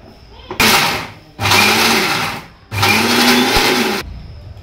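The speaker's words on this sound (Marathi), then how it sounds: "हिरवी मिरची आणि टमाटर थोडंसं घेते आणि थोडी कोथिंबीर, हे आता मी दळून घेते मिक्सरमध्ये" A mixer grinder pulverizes green chilies, tomato and coriander in three loud, close whirring bursts separated by short pauses, with the motor pitch settling as each run continues.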